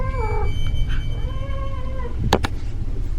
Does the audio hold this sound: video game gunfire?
no